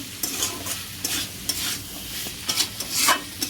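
Spiced onion, potato and peas for ghugni sauté in a pan, a soft sizzle under repeated scraping strokes of a spatula, close and moderately quiet, with no voices.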